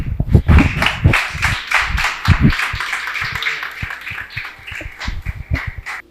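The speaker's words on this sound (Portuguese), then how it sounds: "E as palmas louvam o Senhor." A church congregation at a worship service claps hands in a steady rhythmic beat, close and fairly loud, continuing throughout with some voices underneath.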